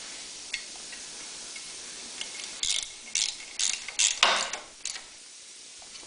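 A ratchet wrench snugs the bolts holding the starter on a Honda EV6010 generator. Close, rapid clicking comes in short bursts, with a few faint ticks first.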